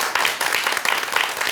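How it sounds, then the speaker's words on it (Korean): An audience at a Buddhist dharma talk breaks into clapping, a fairly loud burst of dense hand claps filling the moment without any talking. "박수 한번 쳐드릴까요?"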